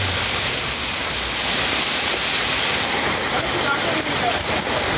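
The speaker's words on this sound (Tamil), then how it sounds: "நேற்று மாலை மற்றும் இரவில் கனமழை கொட்டி தீர்த்தது" Heavy evening rain pours down in the city of Salem, a loud, dense, steady hiss of rainfall that stays constant throughout, with no voices.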